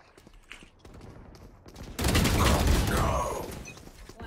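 Rapid bursts of video-game gunfire break out suddenly and stay loud and dense for a couple of seconds, following a quieter stretch of faint game sounds.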